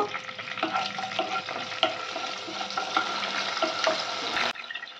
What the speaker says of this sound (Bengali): এবার ফোড়নটা আনিয়ে নেব